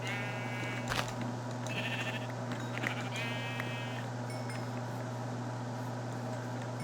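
Minecraft sheep bleat a few times over a steady electronic hum, with a couple of short, clear calls standing out against the constant background drone.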